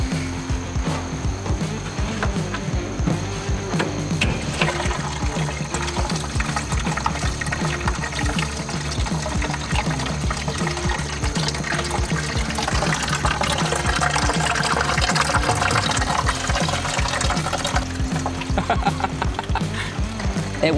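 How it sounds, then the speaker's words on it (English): Water drains through the drain of an outdoor fire feature with leftover ice, a steady close gushing and trickling flow that continues throughout with no talk. "Let's see if the drain works."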